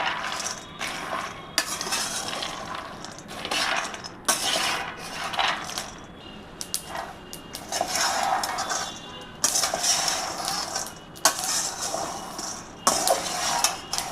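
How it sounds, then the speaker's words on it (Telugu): Peanuts dry-roasting in a pan for a peanut and white sesame laddu, stirred steadily so they rattle and scrape against the metal in repeated bursts, fairly close, with no talking. "వేరుశనగ గుళ్ళు పాకం పడటానికి వేయించుతున్నాను చూడండి."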